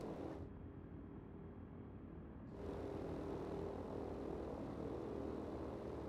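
Propeller aircraft engines in the World of Warplanes combat flight game drone steadily and fairly loud, swelling slightly louder partway through, with no talk over them.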